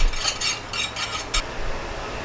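Candle-making mixture being stirred in a container, with a run of quick scraping, clinking strokes in bursts, close and fairly loud, then quieter near the end.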